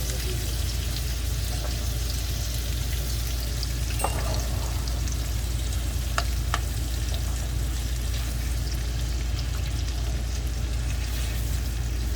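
Chicken breasts frying in a pan, a continuous loud sizzle with a low steady hum underneath and a few sharp clicks or pops along the way.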